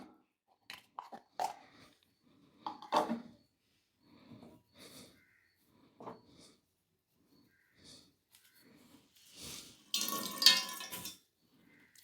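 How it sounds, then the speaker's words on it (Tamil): Grated carrot is wrung out by hand to remove water for a vegetable Manchurian recipe, giving scattered soft squelches and drips, then a louder splashing burst of water near the end in a quiet kitchen. "நல்லா புழிஞ்சு எடுத்துடணும், தண்ணியே இருக்கக்கூடாது."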